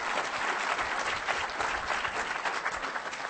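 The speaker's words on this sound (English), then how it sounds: "So let's give her a round of applause." Seminar audience applauding at a hospital anticoagulation service patient event, steady dense clapping filling the room throughout without talk.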